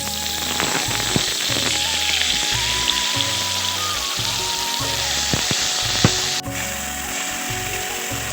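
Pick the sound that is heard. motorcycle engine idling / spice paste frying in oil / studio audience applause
spice paste frying in oil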